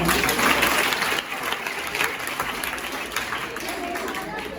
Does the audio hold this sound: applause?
yes